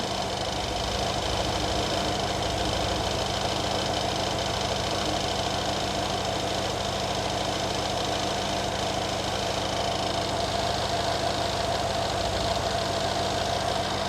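A Mercedes-Benz AMG engine idles steadily and loudly with a rough, uneven pulsing throb from a misfire, running without a break and with no voices.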